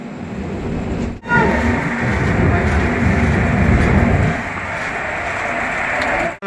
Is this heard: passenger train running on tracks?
yes